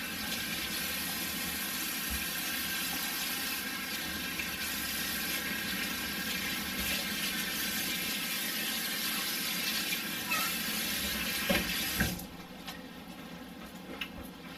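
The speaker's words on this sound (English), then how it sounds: "Then I'm going to wash my hands again." Hands being washed under a running kitchen faucet: a steady hiss of flowing water for about twelve seconds, then the tap shuts off, leaving quieter room sound.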